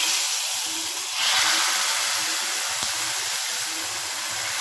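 Roasted pepper and cumin tipped into hot pongal give a steady, loud sizzling hiss that swells briefly near the start and then holds evenly, close and alone.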